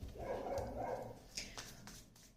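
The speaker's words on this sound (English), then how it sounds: "I'm really sorry about my dog." A dog barks indoors a few times, fairly faint and short, with a soft whimpering quality and no one speaking.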